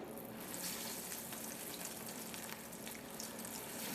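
Tuna fritters frying a few at a time in hot olive oil, a steady dense sizzle and bubbling that runs continuously and fairly close, with no talk over it.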